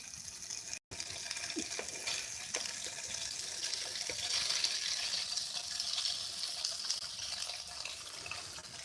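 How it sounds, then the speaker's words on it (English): Spam frying in a pan gives a faint, steady sizzle and crackle, a soft continuous hiss with small pops, close by and heard alone. "Can you already hear that sizzle?"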